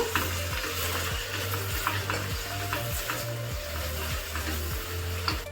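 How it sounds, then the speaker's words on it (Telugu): Onion and tomato sautéing in a pan for soya pulao, a constant sizzle broken by repeated scraping strokes of a spoon stirring, steady and close with no talking. "టమోటా కూడా కలర్ చేంజ్ అయ్యే వరకు మగ్గించుకుందాము"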